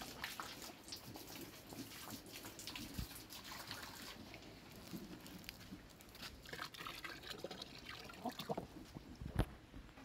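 Flooded river running high after heavy rain, a faint, steady wash and trickle of moving water with occasional splashes, heard from a distance without talking.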